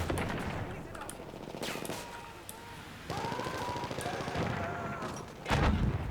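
Gunfire in Battlefield 1 crackles in repeated rapid bursts under steady game noise and music-like tones, with a heavier boom near the end; people talk over it.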